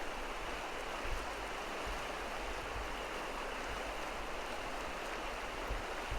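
Steady rushing river water rising as a dam starts generating, a broad continuous flow close by with no voices.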